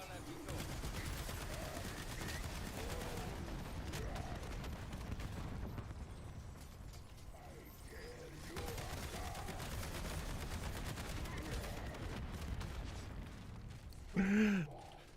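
Sustained video game gunfire in Black Ops 7, rapid bursts of shots rattling continuously at moderate loudness, with scattered voices speaking over the action.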